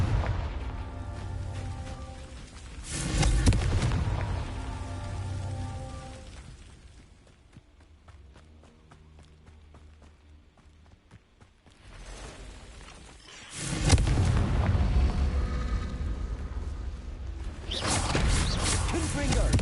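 Repeated fiery spell blasts in the Hogwarts Legacy video game, loud bursts with whooshing booms clustered at the start and again near the end, separated by a quieter stretch of game ambience.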